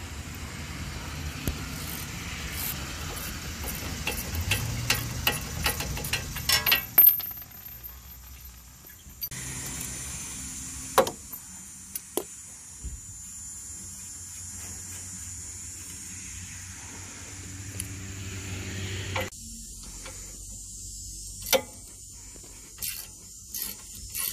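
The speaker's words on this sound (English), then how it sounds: "we're going to go ahead and take our 19mm socket, and we're going to start taking these castle nuts off" A 19mm socket and ratchet loosen castle nuts on the tie rods of a V8-swapped 2003 Jeep TJ during a steering upgrade, giving scattered ratchet clicks and metallic taps over a low hiss and some faint rumbling.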